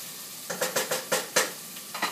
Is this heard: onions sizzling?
yes